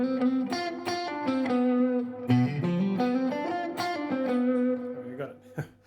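Electric guitar with light distortion plays a blues scale run, plucked notes linked by hammer-ons and pull-offs, close and clear with no talking.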